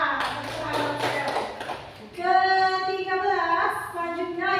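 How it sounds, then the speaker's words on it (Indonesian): Classroom applause for a student: a couple of seconds of scattered clapping and tapping from a group of children, followed by a sung or drawn-out voice that takes over after it dies down. "Peringkat ke-12 Naura Oksel Maringka. Tepuk tangan Oksel."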